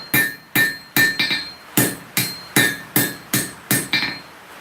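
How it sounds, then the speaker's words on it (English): A hammer strikes steel on an anvil during blacksmith forging, about ten loud, close, ringing metallic blows at a steady pace of roughly two per second, each leaving a short bright ring. "So here I'm not straightening, I'm actually forging in all the galling that I put into it when I was straightening it with the edges of the anvil."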